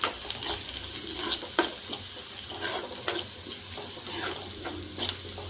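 Onions frying in a pan with salt and turmeric for an old-style urad dal vadiyalu pulusu, a steady soft sizzle with a low hum beneath and scattered clinks and scrapes of stirring throughout.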